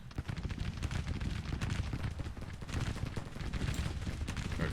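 Regiment rifle fire in the Grand Tactician Civil War video game: dense, continuous volleys of crackling musketry and booming reports, loud and unbroken throughout.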